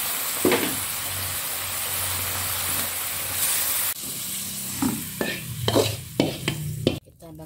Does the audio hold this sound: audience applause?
no